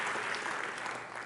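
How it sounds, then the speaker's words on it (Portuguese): Applause from a congregation at a church healing conference, a steady wash of clapping that carries through the whole moment at moderate distance. "Salva de palmas para o nosso querido irmão."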